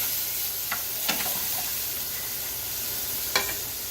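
Ground chorizo sizzles steadily in a pan as it cooks down, a soft continuous frying hiss broken by a few brief stirring scrapes, close and alone with no talk.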